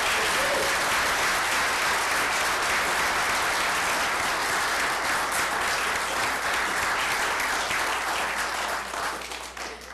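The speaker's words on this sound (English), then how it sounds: "join me in a round of applause" A League of Women Voters candidate forum audience in Downers Grove claps for state representative candidates of the 81st District: sustained, even applause from many people for about ten seconds, thinning and fading at the very end.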